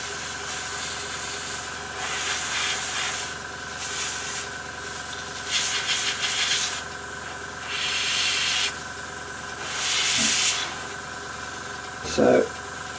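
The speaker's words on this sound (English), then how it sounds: "with the airbrush." An airbrush sprays paint onto a model Spitfire Mk II in repeated short bursts of loud, breathy hiss separated by pauses, over a constant low hum. A few small clicks and knocks fall near the end.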